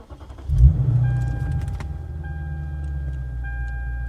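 A second-generation Lexus IS cranks briefly and catches, its engine settling into a steady low idle close by, while soft electronic chime tones and ticking follow.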